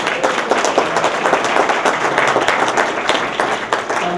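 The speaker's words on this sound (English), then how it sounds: "I think we should just give another round of applause for this man here." Crowd applause at a university presentation, a steady wash of many hands clapping with no speech, moderately loud and continuous for a few seconds.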